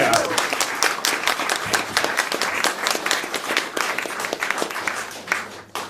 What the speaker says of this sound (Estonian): Palun väga, aplausi!